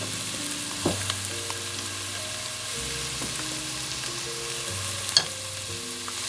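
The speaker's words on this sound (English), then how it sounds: "I'm also going to put my garlic in" Minced garlic sizzling in a pan with softened onions for keto chicken parmesan soup, a steady hiss of frying with a few sharp clinks of a utensil against the pan and low kitchen hum beneath.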